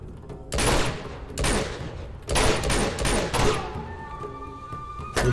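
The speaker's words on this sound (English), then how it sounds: "This bitch opening fire" Enemy gunfire in Uncharted 2 erupts in loud, close bursts of rapid shots, three or four volleys separated by short gaps before fading into quieter game ambience.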